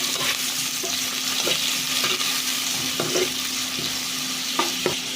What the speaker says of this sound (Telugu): అలానే ఆనియన్స్ పచ్చిమిర్చి కూడా వేసేసుకుందాం ఒకసారి కలుపుకుందామండి